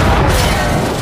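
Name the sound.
explosion of oxygen tank shot with a pistol, in a film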